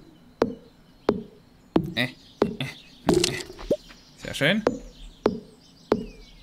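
Repeated knocking or chopping sounds from tools in the farming game Stardew Valley, about ten sharp evenly spaced hits with some rustling effects between them, while a voice speaks briefly in German.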